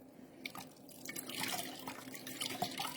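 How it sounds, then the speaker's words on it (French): Water splashes and drips as a face is rinsed, soft uneven trickles and droplets falling close by, quiet, with no talking. "On vient vraiment rincer tout son visage correctement."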